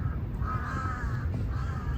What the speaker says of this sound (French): Les corbeaux ils sont encore là.